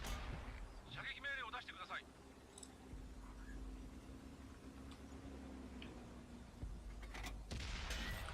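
A tank cannon fires in the World of Tanks video game, a single sharp blast near the end over a steady background hum, with a short stretch of voice earlier on.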